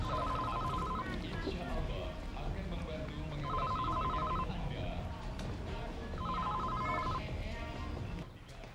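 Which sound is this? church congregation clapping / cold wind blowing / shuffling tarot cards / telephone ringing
telephone ringing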